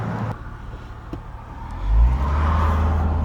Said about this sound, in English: So, you see the traffic already